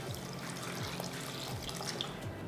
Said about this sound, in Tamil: இதில் வந்து இப்போ தண்ணி ஊற்றிடலாம்